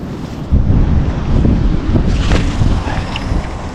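Strong wind blasting across a fishing pier in Dublin, Ireland, loud low-frequency rumble and gusting buffets on the microphone, steady throughout with a surge midway, no speech.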